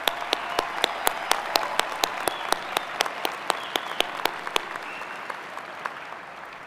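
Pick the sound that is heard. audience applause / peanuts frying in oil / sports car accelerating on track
audience applause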